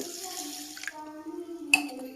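Water runs from a tap into a vessel of rice and a little lentil set to soak, a steady soft stream with a brief splash near the end, close by and quiet.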